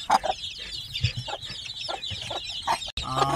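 A hen with newly hatched chicks of mixed kinds gives short, close clucks and chirps in an irregular run, with no talking.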